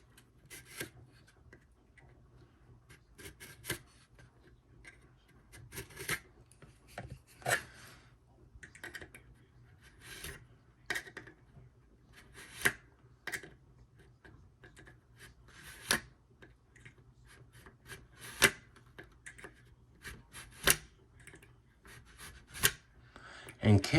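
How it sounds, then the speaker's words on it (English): Tamiya plastic scriber scratching plastic while building a Dracula's Hearse model kit: a series of short, sharp scraping strokes repeated at an irregular pace over a quiet background. "let's see if we can get our handy dandy little Tamiya plastic scriber"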